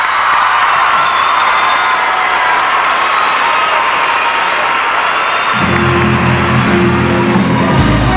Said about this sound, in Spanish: Un gran aplauso a todos ustedes